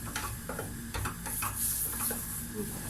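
Cauliflower and mushrooms sautéing in a pan, stirred with a wooden spoon: a steady close sizzle with scraping stir strokes throughout.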